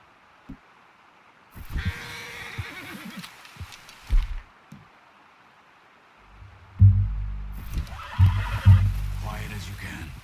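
A horse in the game Red Dead Redemption 2 whinnies loudly, with clip-clopping hooves and rustling around it; low engine-like hum and people talking between the sounds.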